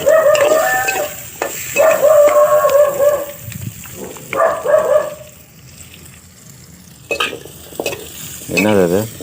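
Dried red chillies and curry leaves crackle and sizzle in hot oil, with stirring scrapes, the hiss rising and fading in waves; a brief warbling tone sounds near the end.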